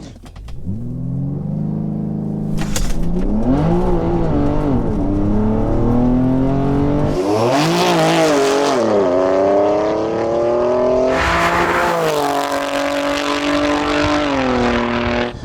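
A car engine revving hard through several gears on a drag run, pitch climbing and dropping with each shift and bogging slightly, loud and close throughout a sustained acceleration run.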